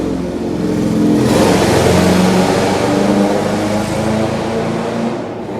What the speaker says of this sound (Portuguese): Deus dá dinheiro para esse homem para ele pôr um escapamento nesse carro